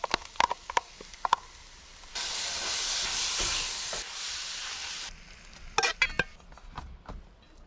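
A sauce is poured into a hot Instant Pot at a campground, giving a loud, steady sizzling hiss for about three seconds between clattering handling sounds and scraping.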